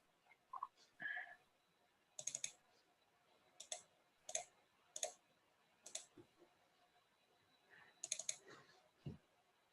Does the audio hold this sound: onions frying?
no